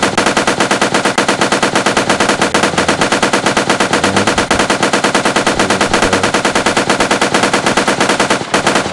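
Rapid gunfire and explosions of barrels in a Unity first-person shooter game, a dense, continuous loud barrage of repeated shots lasting throughout with no talking.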